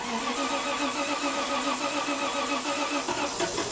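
A classic Triumph car engine starts and runs, a steady mid-pitched mechanical drone with constant loudness and no talking.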